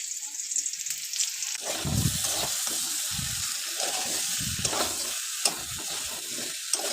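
Onions sizzle in a pan with a steady bright hiss, punctuated by scraping and stirring sounds from a utensil.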